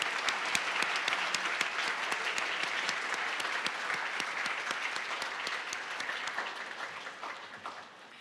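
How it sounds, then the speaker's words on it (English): Sustained audience applause at a university school of information convocation, a dense, even round of many hands clapping that fades slightly toward the end. "So please join me in a round of applause for our new faculty."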